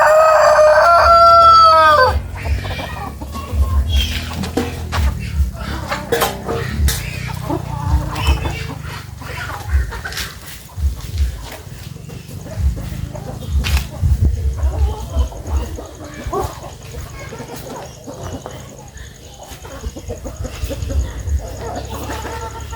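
A rooster crows loudly at the start, followed by steady clucking and cackling of chickens with other farmyard noise throughout.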